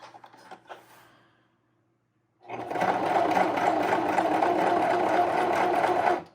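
After a quiet moment with faint handling, a sewing machine starts up and runs fast and steady through scrap fabric for a few seconds, loud and close.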